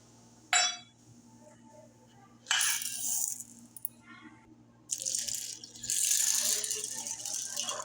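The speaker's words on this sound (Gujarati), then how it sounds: "હવે આપણે દાળને સારી રીતે ધોઈ નાખીએ" Lentils for dal being rinsed in water, with bursts of rattling grains and splashing in a vessel, separated by short quiet gaps, close and fairly loud.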